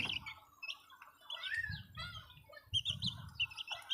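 Week-old chicks packed into a cramped space peep and chirp busily up close, with overlapping high calls and a few soft scuffling thumps of movement between them.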